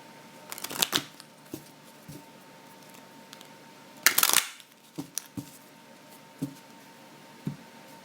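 Cards are pulled and handled from a tarot deck during a reading, giving several soft, brief shuffling clicks and one louder papery rustle partway through, close and quiet with no voice.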